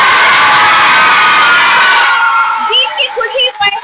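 Children at the SAI centre in Imphal clap and cheer after Mary Kom's boxing quarterfinal win, a dense roar of applause and shouting that thins after a couple of seconds into scattered excited shrieks.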